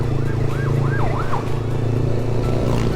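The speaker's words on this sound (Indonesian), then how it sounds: "Pas ambulan" An ambulance siren wails in a rising and falling pattern as it passes along a road near Pangalengan, West Java, loud over a steady drone of vehicle engines and traffic.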